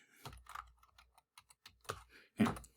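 Someone types on a computer keyboard while creating a blank document, with irregular bursts of close, crisp key clicks and short pauses between them.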